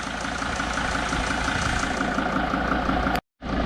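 A Mercedes T1N Sprinter van engine idling after reassembly, a steady rhythmic diesel chug held evenly at close range, cutting out abruptly near the end before resuming.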